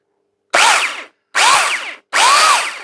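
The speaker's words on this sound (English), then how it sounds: "Okay, let's start with this chainsaw here." An old electric garden chainsaw is switched on three times. Each time it whines up sharply for about half a second and then winds down, with clear gaps of silence between the short bursts.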